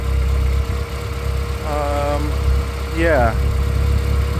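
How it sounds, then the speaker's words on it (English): Renault Sport Twingo 133 engine idling with a slight misfire and faint rocking, a steady low rumble running throughout while a voice speaks briefly over it. "it's running better, but it's still misfiring a little bit. You can hear it."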